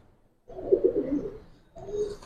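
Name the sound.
Bezi silver pigeon cooing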